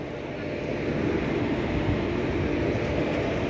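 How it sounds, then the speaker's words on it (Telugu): The Satavahana Express pulls out of Charlapalli railway station, a loud, continuous rumble of the moving train that swells slightly as it gets under way. "చెర్లపల్లి రైల్వే స్టేషన్ నుంచి డిపార్ట్ అయిపోతున్నాడు"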